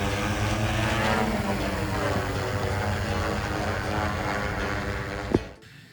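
A drone in flight at Asaba International Airport, a steady loud propeller drone with a strong tonal hum throughout that ends in a sharp bump and then drops away, with no talk.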